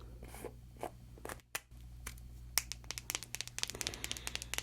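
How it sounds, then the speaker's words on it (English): A thick lip balm with crunchy sugar bits crackles close up in a quiet setting, scattered small crunches and clicks growing denser toward the end. "You can hear the crunchy bits of the sugar."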